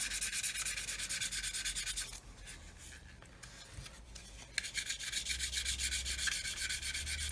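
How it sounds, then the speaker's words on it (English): Steady rhythmic rubbing of 2000 grit wet and dry paper on a hard block, polishing a 1/48 Eduard Typhoon Mk.1b model, close and continuous with a brief lull midway before the strokes resume. "get a piece of like 2000 wet and dry on a very hard block, even a little steel block, and just polish it"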